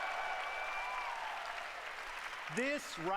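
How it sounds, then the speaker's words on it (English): Audience applause at the Microsoft E3 2019 gaming conference, a steady broad wash of clapping from a large crowd in a hall, heard at a distance, with a voice breaking in near the end. "Oh no, there's this clapping."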